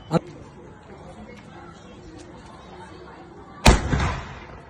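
Two sharp jelly firecracker bangs from Sivakasi, one at the very start and a louder one later that crackles briefly, with people chattering faintly in between.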